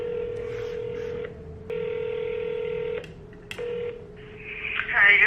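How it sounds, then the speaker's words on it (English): A phone call being placed: steady ringback tones in long on-off bursts with brief gaps, a short blip between them, and a little voice or noise toward the end. "I'm gonna try and call them again"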